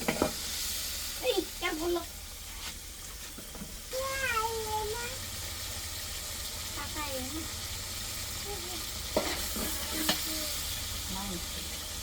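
Spices for bhuna khichuri sizzle in a pan at home while being stirred, a steady fry under scraping and stirring noises, with a cat meowing several times close by and a voice speaking now and then.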